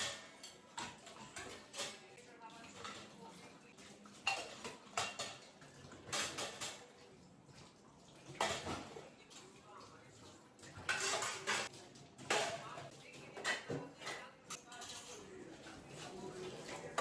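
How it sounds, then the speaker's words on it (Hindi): Dishes, pots and utensils being washed in a home kitchen sink: scattered clinks and clatters of metal and crockery, with running water and quiet stretches between bursts. "तो अब मुझे बस बर्तन वॉश करने हैं।"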